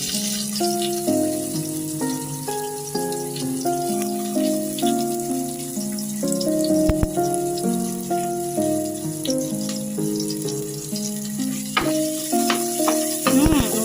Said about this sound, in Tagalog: sinalang ko na po yung bawang at ang susunod naman po ay yung sibuyas